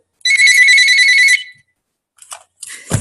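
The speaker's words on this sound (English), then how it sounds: "My dang phone is ringing." A phone rings with a loud, bright electronic tone for about a second, then cuts off. Brief faint bursts of the ring and a thump follow.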